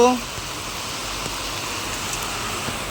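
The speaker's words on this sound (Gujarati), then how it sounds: "ધોધમાર વરસાદ આવી રહ્યો છે" Heavy rain hisses down as a dense, even wash of noise, unbroken throughout at moderate loudness.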